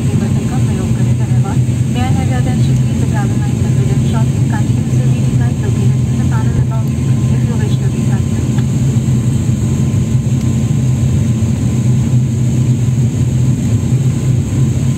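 Inside the cabin of a passenger airplane taking off on a Mysuru–Chennai flight, a loud, steady engine roar and hum fill the space, with a voice talking over it throughout.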